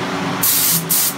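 A spray gun spraying nitrocellulose paint onto a custom guitar body, two loud, close hissing bursts, the second short, each stopping abruptly, with no talk.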